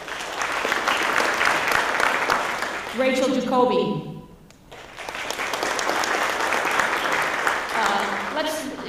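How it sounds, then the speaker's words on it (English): An audience at a school board meeting applauds students in sustained, dense clapping that dips briefly while a name is announced over a speaker, then swells again and continues steadily. "If we could hold our applause to the end, that would be great"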